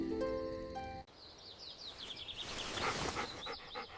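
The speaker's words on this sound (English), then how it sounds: "I hear birds singing outside." Birds sing outside in the morning, a series of bright repeated chirps and a trilling call rising over a soft background hiss after a brief tonal musical opening.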